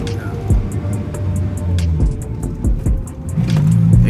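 A manual-transmission car pulls away after a shift into second gear on a New York street, its engine droning and rising steadily up close, with occasional voices over the engine.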